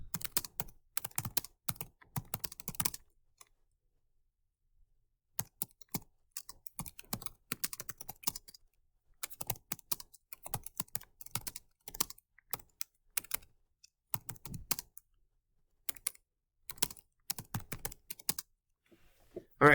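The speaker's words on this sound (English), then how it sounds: "I probably could have saved you guys that little brief bit there while I was typing" Computer keyboard typing in bursts of rapid keystrokes separated by short pauses, close and clear with no talking.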